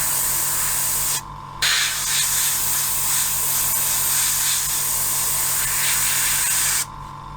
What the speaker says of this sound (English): It's spraying really quite finely.